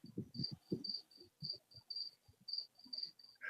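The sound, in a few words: crickets chirping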